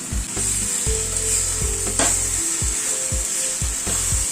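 Vegetable curry with tomato sauce frying in a pan, a steady loud sizzle with a rhythmic series of scraping stirs from a spoon, no talking.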